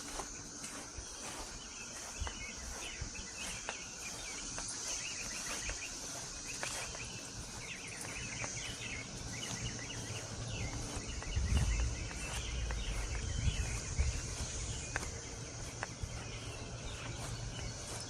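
Cicadas drone continuously outdoors in a yard during an evening walk with puppies. The buzz is steady and fairly distant, with soft rustling and a few low thumps mixed in and no talking.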